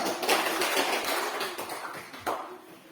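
A classroom audience claps for two students, Isi and Diana, in a brief burst of scattered, close hand claps lasting about three seconds.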